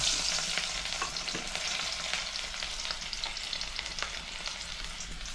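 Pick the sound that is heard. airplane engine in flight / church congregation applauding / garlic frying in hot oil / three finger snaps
garlic frying in hot oil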